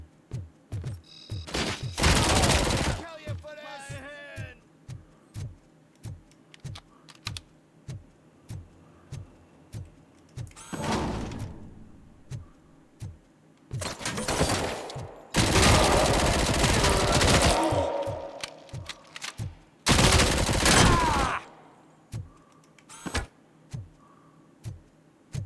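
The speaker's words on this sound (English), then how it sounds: "Assault rifle." Assault rifle gunfire from the Robocop Rogue City video game, heard as loud bursts of automatic fire mixed with steady rhythmic ticking shots and short pauses between volleys.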